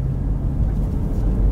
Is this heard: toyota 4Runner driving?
yes